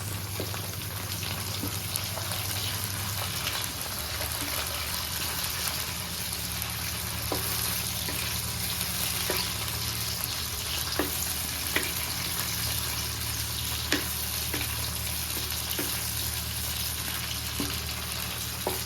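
Steady sizzle of food frying in a pan, a broad crackling hiss with occasional sharp pops and a faint low hum underneath, continuous throughout with no voices.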